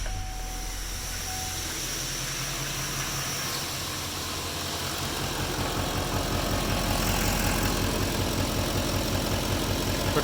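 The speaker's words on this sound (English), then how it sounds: "We're kind of idling around 640 RPM. This truck is slightly warm already." LML Duramax diesel pickup with stock CP4 pump and internal lift pump, already slightly warm, idling near 640 RPM: a steady, close, low diesel rumble with a fine rhythmic clatter, growing a little louder midway, no voices.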